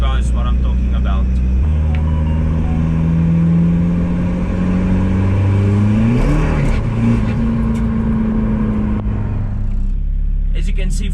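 A diesel drag car makes a short, gentle clutch test pull: the engine idles loudly, then rises in pitch as it revs and pulls away, with a strained tone shift midway before easing off to idle near the end.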